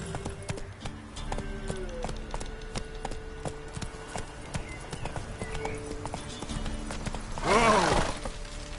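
Horse hooves galloping in a PS4 video game: rapid, even clip-clop beats at close range, with a short, louder burst near the end.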